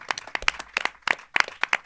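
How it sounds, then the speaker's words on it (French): A few people applaud at an evening event in a media library, giving sparse, uneven individual claps in loose irregular bursts rather than a full roar, fairly close. "C'est moi qui applaudis le public cette fois"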